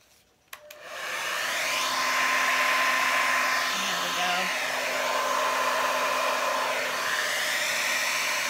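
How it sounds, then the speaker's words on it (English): A hair dryer starts after a click and then blows steadily and loudly at close range, pushing paint across a 12x24 canvas. "this time I'm going to use the blow dryer to flip it up and then turn it around"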